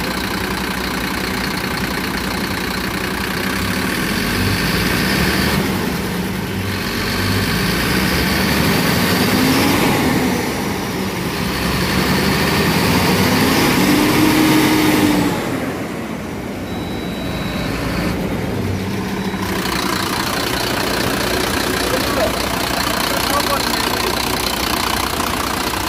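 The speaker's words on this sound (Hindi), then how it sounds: "देखो मैंने गाड़ी स्टार्ट कर दी," A BharatBenz 3123 truck diesel engine idles steadily just after starting, a continuous close rumble running throughout with brief dips in level, while people talk over it at times.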